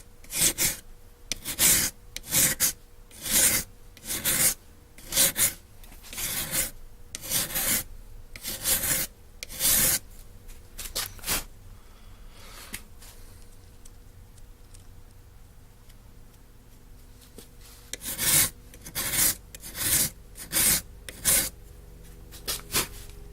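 The steel spine of a Morakniv Basic 511 knife held in a vise is filed in steady rhythmic rasping strokes, close and distinct, with a pause in the middle before the strokes resume.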